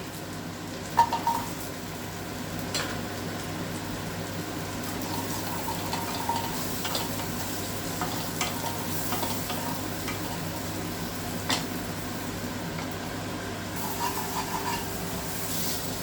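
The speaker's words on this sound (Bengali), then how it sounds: "এই তেলেই আমি একটা আলু নিয়েছি এই আলুটা আমি ভেজে নেব" A potato frying in oil in a pan after fish, making a steady close sizzle with occasional soft stirring scrapes throughout, no talking.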